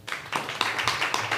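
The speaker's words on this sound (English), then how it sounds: "Give it a round of applause" Short burst of audience clapping at an open mic night, a few close, scattered claps from a small crowd lasting about a second.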